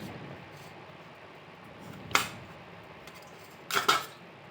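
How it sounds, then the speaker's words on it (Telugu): A knife slices peeled potatoes into long strips for fries, giving two or three crisp, quiet cuts spaced over a few seconds against a faint steady background. "కట్ చేసిన తర్వాత ఇలా చిన్న చిన్నగా పొడువుగా ఇలా కట్ చేసుకోవాలి"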